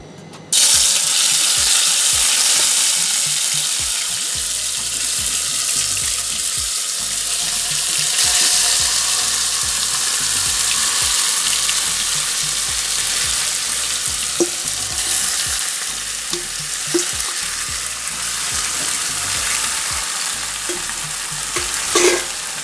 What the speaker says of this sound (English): I'm going to let that sear on high heat for about a minute on one side before I start to stir it